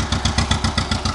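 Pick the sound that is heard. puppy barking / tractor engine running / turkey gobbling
tractor engine running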